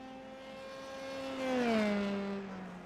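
Open-wheel race cars in an amateur series speed past at the Red Bull Ring, engines rising then falling in pitch with a doppler sweep as they approach close and pull away, no talk.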